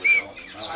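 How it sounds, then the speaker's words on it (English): A pet bird gives a short, high chirping call, close and moderately loud, with faint background noise and no speech during the call. "I think this is a pretty bird."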